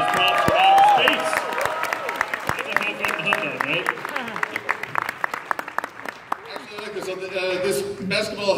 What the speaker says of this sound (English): Can we get a round of applause for Spaceman for bringing all that props for